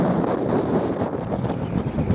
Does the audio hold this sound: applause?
no